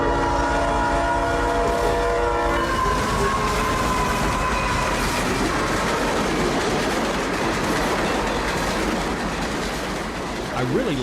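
CSX freight train led by two Spirit units, the 1776 Armed Forces and 3194 Law Enforcement, at Waldo by a curve and bridge, sounds a loud sustained multi-chime horn for about five seconds, then rolling wheel and rail rumble continues close and steady.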